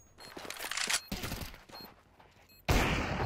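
Bursts of automatic gunfire from a first-person shooter game, with several dense volleys in the first seconds and a loud, sustained blast at the end.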